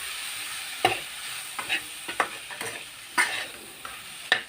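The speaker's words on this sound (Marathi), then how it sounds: "आता याच्यामध्ये आपण जो भात आहे शिल्लक राहिलेला तो टाकायचा। याला व्यवस्थित परतून घेऊ।" Leftover cooked rice tossed in a spiced pan, a steady sizzle broken by sharp scraping clacks of a spatula at irregular intervals, close and alone.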